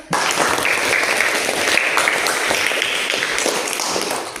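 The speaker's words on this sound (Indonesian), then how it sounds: "Tepuk tangan dulu untuk Rehan" An audience applauds a student named Rehan in a classroom session, loud continuous clapping sustained for several seconds before tapering at the end.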